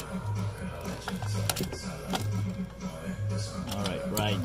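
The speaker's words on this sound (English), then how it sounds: "I'm spinning the socket so I can get it in again." A socket wrench spins freely on a bolt during catalytic converter removal on a Cadillac CTS, making rapid repeating ratchet clicks in short bursts with faint rattles close by.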